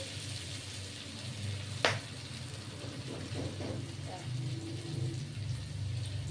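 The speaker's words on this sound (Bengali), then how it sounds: "এবার এটা ভাজা ভাজা হচ্ছে" Katoa stems and small mourola fish fry in a pan with a soft, steady sizzle, a sharp clink of a utensil near the start and a few light stirring scrapes later.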